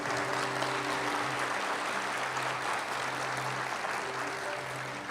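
A church congregation applauds during a worship service, a dense, even wash of clapping that holds steady throughout, with sustained music tones underneath.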